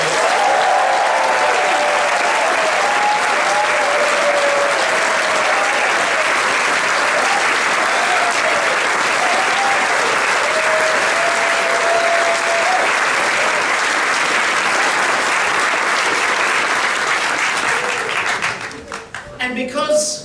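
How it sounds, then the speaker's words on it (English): Sustained audience applause at an Australian Labor Party leadership campaign rally, a dense steady roar of many hands clapping that runs loud for most of the stretch before tapering off, with brief voices and whistles mixed in. "Let's give them a round of applause."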